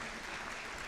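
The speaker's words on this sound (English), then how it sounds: "please give them a huge round of applause one more time" Audience applause for the judges at a 2025 PCH District Gwinnett robotics event, a dense, steady clatter of many hands clapping throughout, fairly loud and without talk.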